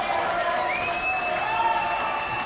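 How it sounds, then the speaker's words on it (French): A studio audience on a French Christmas variety show cheers and applauds for a guest, a steady roar of crowd noise with whistles and shouts held at constant loudness. "applaudissements pour Floriane Schaap."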